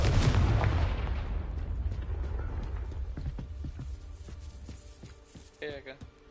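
A Confringo blasting spell fires near a gatehouse in the Hogwarts Legacy video game. The clip opens on a heavy, close explosion that rumbles and fades over a couple of seconds, followed by scattered sharp clicks and debris knocks.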